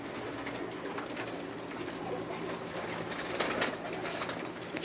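Pigeons coo softly on a rooftop, low and steady over a wash of ambient outdoor noise, with faint background voices and no clear speech.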